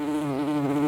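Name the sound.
large bumblebee buzzing near the microphone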